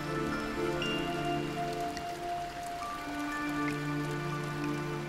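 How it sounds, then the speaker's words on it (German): Meltwater dripping from thawing ice by the Lech river in spring: a continuous patter of small drops falling close by, soft and evenly spread, over faint sustained tones. "Tropfen für Tropfen schwillt an, bis Schwerkraft über Oberflächenspannung siegt und fällt."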